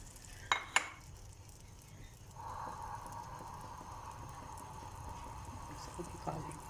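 A butter garlic egg omelette frying on high heat: two quick utensil clinks, then a faint, steady sizzle that holds to the end.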